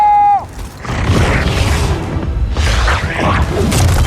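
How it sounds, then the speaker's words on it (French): Explosion in the video game Gears of War 4: a short tone fades out, then heavy booming bursts and rumbling debris noise roll on for several seconds, loud and sustained, with a second surge near the end. "Faites gaffe à l'explosion!"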